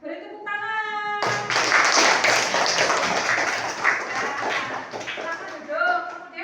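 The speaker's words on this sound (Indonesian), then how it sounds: "Beri tepuk tangan." A classroom gives a group of students a round of applause: dense, loud clapping from many hands lasts about five seconds. A voice speaks briefly just before it starts and again as it fades.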